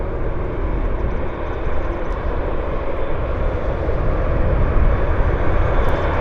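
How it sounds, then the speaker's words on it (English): Airplanes taxiing at Vancouver Airport make a loud, continuous engine roar with a broad, even rumble that holds steady throughout. "They're getting these airplanes dispatched out of here ASAP."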